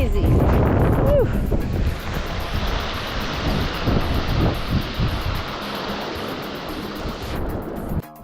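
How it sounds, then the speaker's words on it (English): Strong wind roars through a narrow canyon, loud and buffeting the microphone with a continuous rushing noise that eases slightly near the end. "Whoa, man, the wind is crazy."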